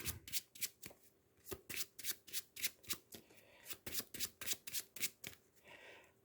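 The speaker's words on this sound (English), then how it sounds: "So first things first, these have to get shuffled" Playing cards for the Marvel Champions card game are riffle-shuffled by hand in a quick run of about fifteen crisp, rhythmic bursts, each a short flutter-and-snap, close and fairly loud, with no talking.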